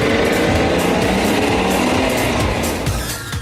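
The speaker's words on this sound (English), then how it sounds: "There's nice sound to the engine, nice smooth gear change." A Porsche engine drones steadily and loudly from inside the car, with a brief dip in the note as a smooth gear change comes through toward the end.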